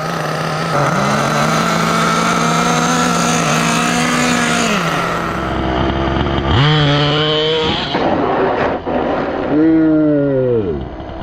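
Kyosho USA-1 nitro RC monster truck engine running on a test drive, a loud buzzing whine that holds steady, drops, then revs up in sharp rising and falling bursts.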